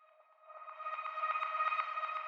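A reversed reverb-and-delay swell used as ear candy in an electronic music track: a tonal, sonar-like wash rising steadily in loudness with soft rhythmic pulses, heard alone.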